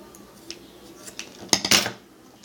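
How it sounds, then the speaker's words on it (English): Paracord strands pinched together and snipped, a soft click of a cutting blade followed by a couple of sharper close snips near the end, over faint room noise. "Cut them."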